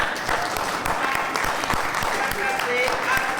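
Audience applause for a woman at a debate forum of elected women leaders, a steady wash of many hands clapping throughout, fairly close and sustained.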